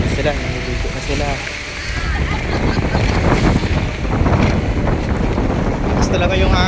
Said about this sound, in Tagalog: siguro din yun ako maririnig kasi malakas yung hangin